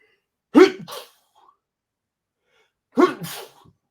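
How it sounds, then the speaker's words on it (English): Two sharp, close sneezes about two seconds apart, each a quick burst with a short trailing release, in an otherwise quiet room. "Sneeze coming."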